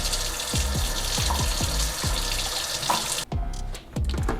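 Water being poured into a film developing tank for a pre-soak, a steady gurgling rush with rhythmic glugs, stopping abruptly near the end before a brief splash.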